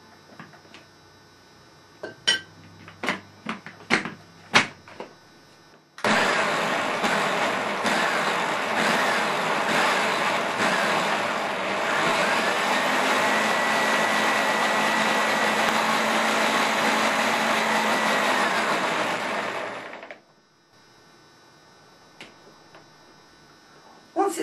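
A blender whirs at full speed while blending salad dressing, a loud steady roar lasting about fourteen seconds before cutting off, preceded by a few light clicks and taps.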